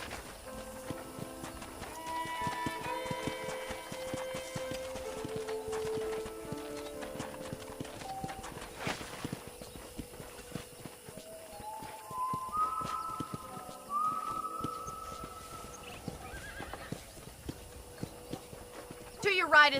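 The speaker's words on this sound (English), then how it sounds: "let's see if you can still ride a horse" Horse hooves clip-clopping steadily in the Western video game Red Dead Redemption, a continuous rhythmic trot running the whole way under game music and character dialogue.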